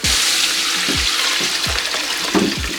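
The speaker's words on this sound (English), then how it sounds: "we gotta put water." Water pours in a steady, loud stream into a pot of seasoned jollof rice (benachin), with gurgling splashes and a few deeper glugs as it fills.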